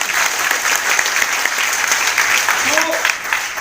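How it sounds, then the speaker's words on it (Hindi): A seminar audience in Mumbai breaks into sustained applause for a guest, a loud, dense patter of many hands clapping together that carries steadily to the end with a brief voice briefly surfacing near the close. "कामले जी के लिए ताली बजा दो"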